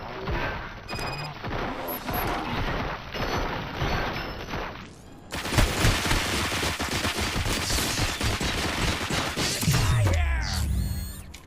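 Dense bursts of automatic gunfire and explosive crashes in the RoboCop: Rogue City video game, loud and continuous, with a brief lull before a heavier barrage and a sharp impact near the end.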